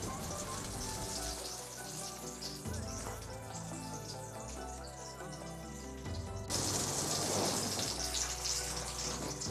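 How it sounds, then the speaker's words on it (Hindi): Ridge gourd peel kebabs shallow frying in a little oil over a low flame, a steady soft sizzle that runs throughout and grows louder and denser toward the end, with no talk over it. "ये हम इसे सेक रहे हैं, शैलो फ्राई कर रहे हैं, कम ऑयल में ही सेकना है"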